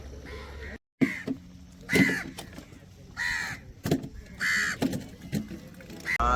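Crows caw repeatedly while flying over fishing boats on the shore at Pungudutivu, sharp calls arriving in scattered bursts, some near and loud, over faint background noise.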